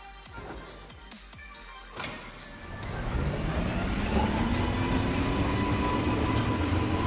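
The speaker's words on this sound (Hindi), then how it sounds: "चलो इस ट्रेन को फिर से चलाते हैं।" A train starts up and runs, its steady rumble and rising tonal whine building from quieter, scattered sounds into a loud continuous roar that holds to the end.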